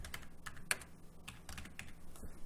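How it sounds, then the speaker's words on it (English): Someone taps numeric values into a computer keyboard in a steady run of close, distinct keystrokes, one sharper key press standing out, with no speech. "So we'll initially type a couple of double values"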